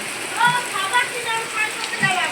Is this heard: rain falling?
yes